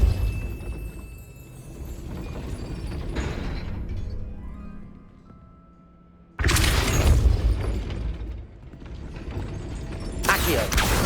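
Depulso spell cast in Hogwarts Legacy: a sudden loud broadband blast bursts out over a low rumbling game backdrop, followed a few seconds later by a second sharp burst.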